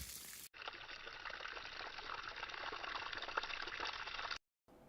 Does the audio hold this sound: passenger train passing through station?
no